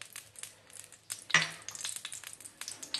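Oil hitting a hot sizzler plate, ready for Gola Kabab, gives a sudden bright, crackling burst of sizzle that flares up then settles into a steady hiss with small pops.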